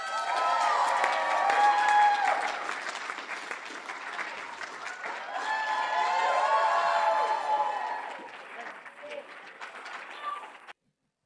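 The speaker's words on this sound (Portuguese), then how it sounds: "Aplaudam Russell Brand" Audience applause for Russell Brand, dense clapping with cheering and crowd voices that swells, dips, then rises again before tapering off and cutting to silence near the end.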